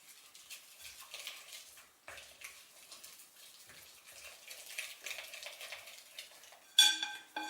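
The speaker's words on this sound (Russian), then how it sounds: "Завариваю муку с молоком. Все хорошенько перемешиваю." Flour brewed with hot milk is stirred by hand for liqueur gingerbread dough, giving soft, close scraping and sloshing through the bowl, quiet and continuous with a brief pause and a sharper clatter near the end.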